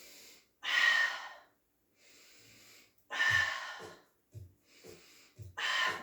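Deep, audible breaths drawn in and pushed out during a pilates hold on the mat, slow airy inhales and exhales close to the mic, with a few short voiced puffs in between.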